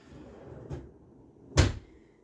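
A sticker drawer in a craft room is opened or shut with a single sharp wooden knock, close and fairly loud, after a softer earlier bump, over quiet room noise.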